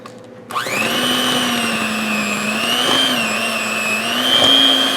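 A blender or electric mixer starts abruptly and runs steadily, loud and close, whirring with small pitch shifts as it mixes no-bake raspberry keto cheesecake filling of room-temperature cream cheese, whipped topping and monkfruit sweetener.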